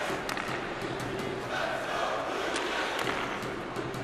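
A simulated hockey arena crowd in the NHL 19 video game, Columbus Blue Jackets versus Montreal Canadiens, roars in a dense, steady wash of cheering that holds throughout with no breaks.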